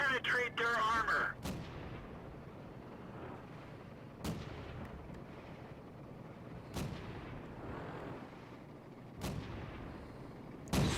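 Tank cannon shots in World of Tanks fire four or five times at roughly two-second intervals, each a sharp, loud boom that rings and fades over a low battlefield rumble. A voice briefly speaks near the start.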